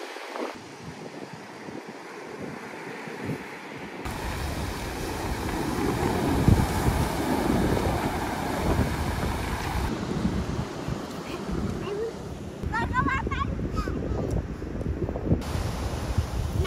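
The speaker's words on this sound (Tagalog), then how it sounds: "Kasi malakas nga yung alon" Strong surf rolls onto a beach under a cloudy sky, a broad continuous wash of waves mixed with gusty wind noise on the microphone, loud and steady from start to end.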